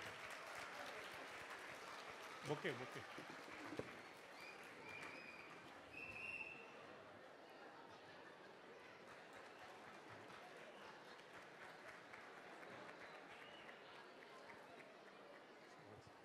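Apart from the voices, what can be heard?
audience applause welcoming guests on stage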